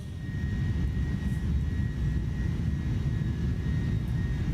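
Airbus A310 jet engines in Microsoft Flight Simulator 2024 during a landing approach into New York, giving a steady, loud low roar with a faint high whine, unbroken and without talk.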